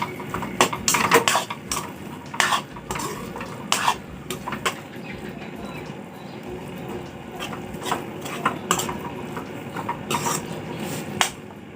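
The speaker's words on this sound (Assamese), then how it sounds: "পাউডাৰ গাখীৰখিনি দিলে মই লৰাই দিম ধুনীয়াকৈ" Powdered milk being stirred into a pumpkin mixture in a pan for pumpkin ladu, with irregular scraping and clinking of a utensil against the metal pan, close and moderately loud, no talking.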